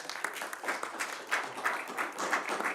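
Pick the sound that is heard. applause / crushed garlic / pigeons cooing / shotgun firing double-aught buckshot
applause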